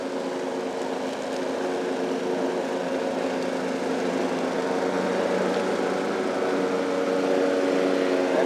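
A lawn mower engine runs steadily while cutting a lawn, a constant buzzing hum at moderate distance, growing slightly louder toward the end with no talking.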